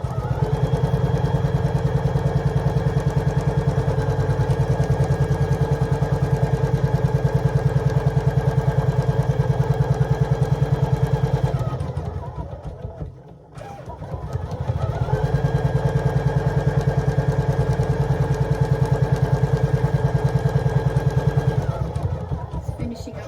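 An embroidery machine stitches purple thread with a loud, steady, buzzing hum that runs continuously, dips briefly mid-way, then resumes at the same pace.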